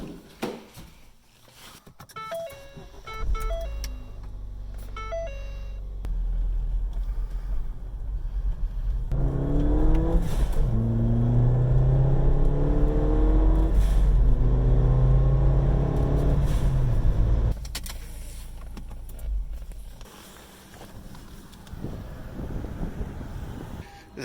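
Car engine rumbling and accelerating on a short drive, a steady low drone building through the middle with rising gear-change sweeps, then easing off toward the end; no talking.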